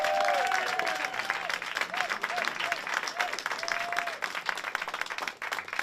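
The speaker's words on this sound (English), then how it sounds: "let's give RJ a little round of applause." A small studio audience claps steadily for a talk show host, dense and sustained for several seconds with faint whistles or cheers riding over the applause.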